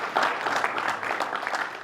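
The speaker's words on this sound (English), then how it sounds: "Hearty round of applause to the debaters." An audience at a university debate claps steadily for the debaters, a moderate, even patter of many hands that continues for a couple of seconds.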